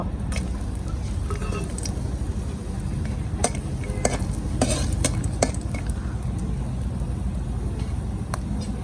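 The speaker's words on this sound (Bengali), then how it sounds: "তেলটা গরম হয়ে গেছে, একটা শুকনো মরিচ, তেজপাতা, চলা, সাদা ফল দিয়ে দেব।" Dry red chili, bay leaf and whole spices sizzle in hot oil in a pan while cooking a dal dish. A steady, close crackling hiss runs throughout, broken by a few sharp clicks of stirring.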